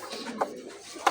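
Giribaj pigeons in a breeder's loft give soft, low cooing calls, faint and close, with a couple of brief, louder flutters or bursts standing out.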